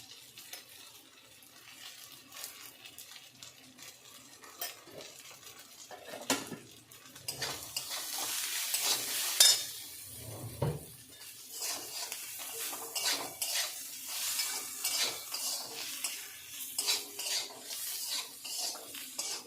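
Onions stirred in a pan with turmeric and salt, spatula scraping and clinking against the metal over a soft, growing sizzle, close and irregular, with no talk.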